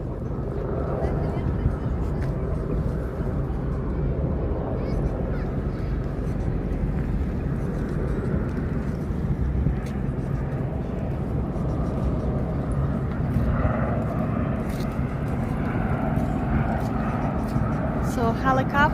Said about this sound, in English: So helicopter, I think it's going down.